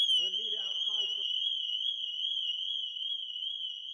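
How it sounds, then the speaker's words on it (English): An alarm fitted to a kit car build blares a continuous, loud, high electronic tone that holds steady throughout, with a brief burst of voice near the start. "We had the wires for the alarm the wrong way round."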